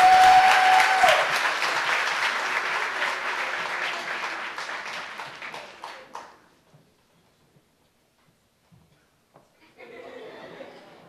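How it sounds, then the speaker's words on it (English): An audience applauds at a college scholarship awards night, a loud sustained burst of clapping with a few chuckles that fades out over several seconds, followed by near silence and faint room murmur. "Now applaud, yeah."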